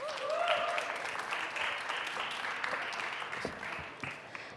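Audience applause at a tech startup pitch event on a conference spotlight stage, a steady wash of clapping that runs throughout at moderate loudness, with a brief voice near the start.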